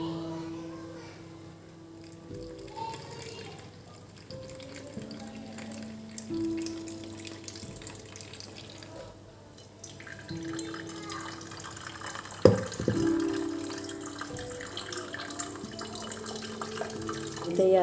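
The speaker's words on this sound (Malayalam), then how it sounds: "നമുക്ക് ഇതിലേക്ക് നമ്മുടെ പാല് പിഴിഞ്ഞൊഴിക്കാം." Coconut milk squeezed from grated coconut and poured into melted jaggery in a kitchen, a low trickling and splashing of liquid into a pot that grows busier toward the end, with faint background noise.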